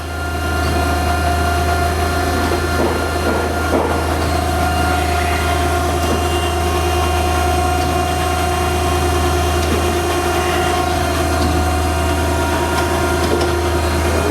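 Okamoto 16 by 32 inch high-precision surface grinder with programmable auto infeed running its spark-out cycle, a steady loud mechanical hum and whine with faint intermittent scraping and ticks throughout, no voices.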